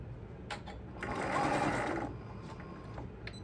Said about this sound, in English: I'm going to sew right up to the handle and back stitch.